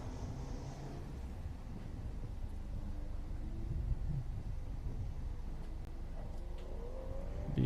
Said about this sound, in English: Hugo Yuck in a MX-5 Miata, C Street Miata